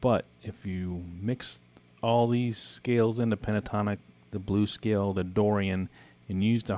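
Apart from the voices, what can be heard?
No everyday noises stand out.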